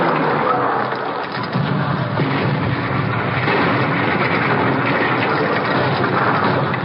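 A continuous roar of airplane engines passing overhead in an old-time radio drama, loud and steady with a muffled, narrow-band quality like an old recording.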